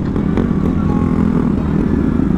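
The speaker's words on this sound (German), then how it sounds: "dein Motorrad ist so laut" A KTM Duke 125 motorcycle engine roars loudly and steadily throughout, a dense, rumbling drone close by with no pauses.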